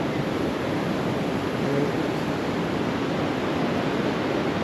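The Kali River flows at Dharchula on the India–Nepal border with a steady, dense rushing roar, close and continuous, with no talking over it.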